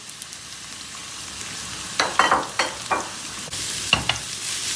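Onions and carrots fry in a pan as a spatula stirs them, with sharp scraping strokes in quick bursts over a faint sizzle that thickens toward the end.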